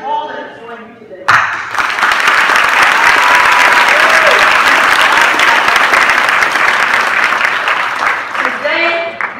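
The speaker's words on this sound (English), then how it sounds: "Graduates, you can join me in a round of applause for your village, your family, your friends, your educators" A graduation audience at Starkweather breaks into loud, sustained applause that fills the hall for about seven seconds, with a speaking voice briefly before and after the ovation.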